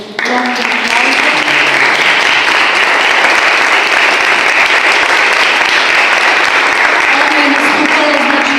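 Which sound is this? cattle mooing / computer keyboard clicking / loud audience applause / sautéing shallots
loud audience applause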